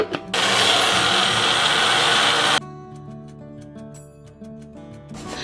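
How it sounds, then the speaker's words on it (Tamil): An electric grinder churning murukku flour mix runs loud and steady for about two seconds, then cuts off, leaving a lower mechanical hum with scattered clicks and clatter before it starts up again at the end. "இப்போ இதை கிரைண்டரில் போட்டிருக்கேன்"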